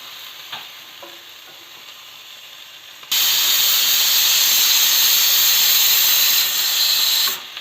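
Khichadi ingredients fry in a pan, a loud steady sizzle and hiss that bursts in suddenly after a few seconds of quiet kitchen background and holds strong to the end.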